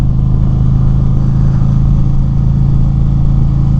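A 2025 Indian Chieftain PowerPlus 112 Limited motorcycle engine and stock exhaust drone steadily while riding at slow speed, a loud, low, continuous rumble with no talking.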